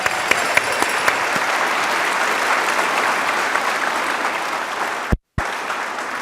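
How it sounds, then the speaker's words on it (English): A large crowd at a high school commencement claps in a loud, continuous burst, with a few sharp nearby claps early and a brief dropout near the end. "You can clap for that, that's amazing."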